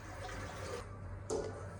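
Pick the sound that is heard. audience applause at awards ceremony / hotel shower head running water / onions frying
hotel shower head running water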